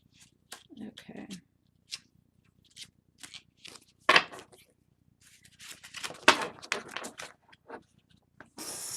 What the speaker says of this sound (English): really want to give these a good shuffle.